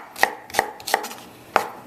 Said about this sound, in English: all we're doing is chopping this up